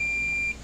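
Continuity tester giving a single steady high beep for about half a second while checking a cattle scale load bar cable, close and clear, then cutting off abruptly.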